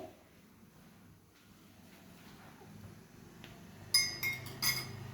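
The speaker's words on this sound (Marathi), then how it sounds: "आता आपल्याला याला चांगलं मिक्स करून घ्यायचं आहे." After a quiet stretch, a spoon clinks sharply against a glass several times in quick succession, close by, mixing tea on a gas stove.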